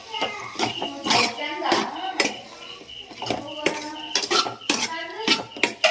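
A metal ladle stirs chicken masala in a pan, giving irregular clanks and scraping clinks against the cookware while a voice talks over the clatter.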